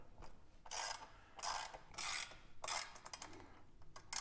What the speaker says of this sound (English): I'm going to grab our 8mm hex head to snug these down just a little bit.